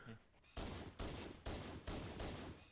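Game gunfire from Halo 1 comes as five heavy, regularly spaced blasts after a quieter start, each loud and booming with a short decay.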